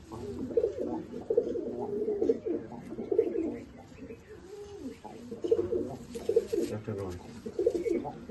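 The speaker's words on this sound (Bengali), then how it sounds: "খুব ভালো সাদা লাল চোখের পায়রা, পুরনো নাসাল" White, red-eyed old Nasal pigeons coo nearby in soft repeated rolling phrases, with intermittent voices talking over them.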